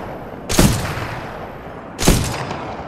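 Two loud, sharp gun blasts, about a second and a half apart, echo in a training simulation of the shooter game Titanfall 2, each with a brief rumbling tail fading into a quiet background.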